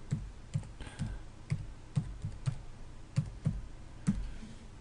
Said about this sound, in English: So I will type that in there